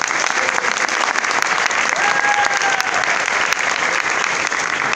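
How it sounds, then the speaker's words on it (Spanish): An audience at a carnival awards ceremony applauds warmly and continuously, a dense wash of clapping that holds steady throughout, with a few faint voices and whistles carrying through the noise. "Maravilla, el aplauso."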